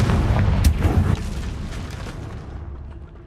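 In Hogwarts Legacy, a Confringo blasting spell goes off with a heavy, booming explosion and a sharp crack, then a rumbling blast that fades over a couple of seconds.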